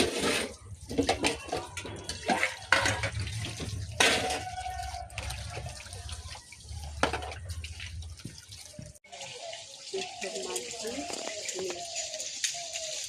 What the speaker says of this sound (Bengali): টবে বাসন মাজছি